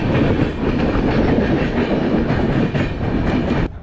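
Kanchankanya Express passenger train rolling past at Dum Dum Junction in Kolkata, a loud, steady roar of wheels and carriages with rhythmic rail clatter that continues throughout, then cuts off abruptly near the end.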